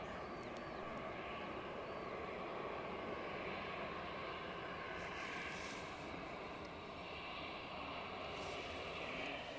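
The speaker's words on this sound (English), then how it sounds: "It's a KLM 330 on its way to Toronto. That's what's growling overhead." KLM Airbus A330 jet passing overhead near Edinburgh under heavy cloud cover, a steady distant throaty engine roar that holds at even loudness throughout.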